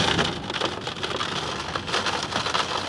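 Heavy rain drums steadily on a campervan roof during a January trip to Barmouth, a dense, continuous close-up patter with no voices.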